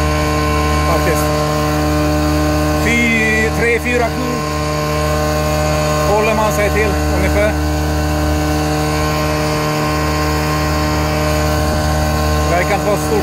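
Evinrude 4 hp two-stroke outboard motor running steadily on a boat, a constant droning hum with strong tonal harmonics throughout, while someone talks over it at intervals.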